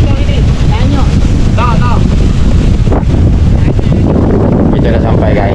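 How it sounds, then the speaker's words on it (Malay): Strong wind buffets the microphone at the seaside while out at sea on a fishing trip at dawn, a steady loud roar with water noise beneath and brief voices in between. "Tapi tengok angin padu bos."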